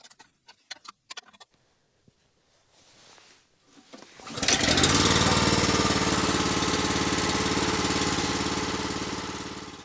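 A small Honda engine, just fitted with a repaired pull-start rope, catches after a few taps and a brief rising pull, then runs steadily and loudly at a close distance.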